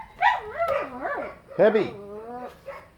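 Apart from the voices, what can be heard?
dogs barking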